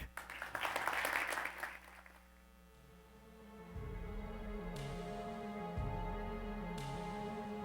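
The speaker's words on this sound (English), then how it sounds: "Can we get another round of applause for that beautiful?" Applause from a TEDx audience at the close of a talk, a dense burst of clapping for about two seconds that quickly dies away into a steady low hum with sustained tones.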